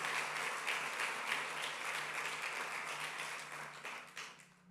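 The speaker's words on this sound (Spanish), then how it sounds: "¿Qué tal si le damos un buen aplauso al Señor que nos ayuda a tener una buena conciencia?" Church congregation applauding during a Spanish-language Sunday sermon, a steady wash of clapping from many hands at moderate distance that thins out toward the end.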